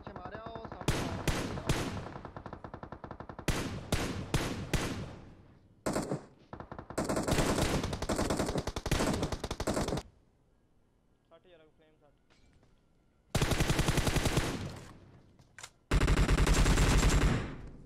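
Rapid bursts of PUBG Mobile gunfire crackle loudly in long automatic volleys, separated by brief pauses and one quieter stretch.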